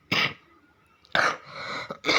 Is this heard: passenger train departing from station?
no